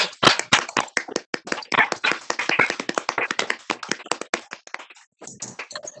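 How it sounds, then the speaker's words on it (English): A few people clap by hand in welcome of a new member at an online county board meeting, sharp close claps in an uneven patter, thinning out toward the end. "we can do that with claps or waves"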